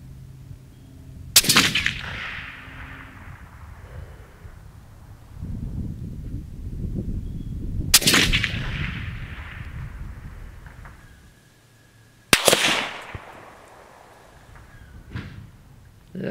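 Three sharp, loud rifle shots from a Savage Stealth Evolution chambered in 6.5 Creedmoor, fired outdoors several seconds apart, each one a hard crack followed by a rolling echo that fades slowly.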